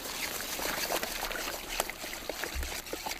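Liquid pudding mixture for a caramel pudding cake is poured while cooking, making a steady soft trickle and splash that runs continuously against a hissy background.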